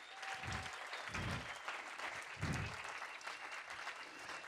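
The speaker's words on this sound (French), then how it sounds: "on peut applaudir" Applause from the audience at the GQ Men of the Year 2013 awards ceremony: steady, fairly faint clapping from a large crowd that carries on evenly throughout, with no voices over it.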